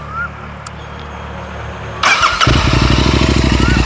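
A Royal Enfield Continental GT 650 parallel-twin motorcycle engine with a 270-degree crank and aftermarket exhaust cranks and fires up about halfway through, settling into a loud, lumpy, uneven idle with a deep throaty exhaust pulse.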